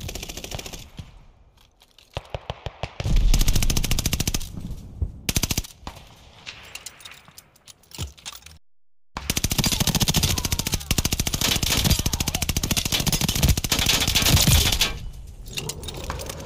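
Rapid automatic gunfire in the Snoop Dogg Arms Race video game, dense rattling bursts with short gaps and a longer sustained barrage, loud and close.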